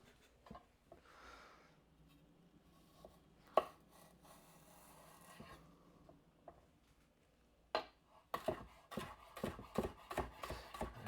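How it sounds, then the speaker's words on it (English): A knife chops celery on a cutting board for shrimp and grits, a few scattered cuts followed by a fast, steady run of close, crisp chops at the end, with no talking. "You can cut celery real fast."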